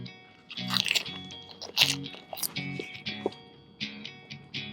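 Crunchy bites into fried Thai spicy chicken meatballs (laab gai thod), with several crisp, close crackling crunches followed by softer chewing sounds.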